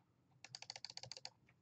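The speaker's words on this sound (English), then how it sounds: "That's why I'm like clicking really fast every once in a while." Rapid clicking on a computer keyboard or mouse during video game play, a quick run of about a dozen sharp, faint clicks in under a second.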